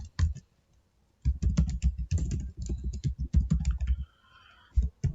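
Rapid clacking of a computer keyboard as Excel filter shortcut keys are typed, quick bursts of keystrokes with brief pauses between them, close and clear with no talking.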